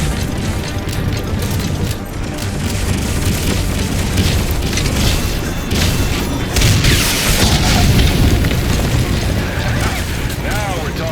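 Honeybee missile launcher explosions in Metal Gear Solid 5 come as heavy, repeated booms and crashes over several seconds, mixed with dense game effects and voices talking.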